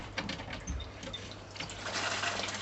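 Water gushing steadily from a tap or hose, freshly reconnected after a kinked line, filling containers and a kettle during a snapping turtle tank clean; moderate and continuous, swelling slightly toward the end, with brief voices underneath.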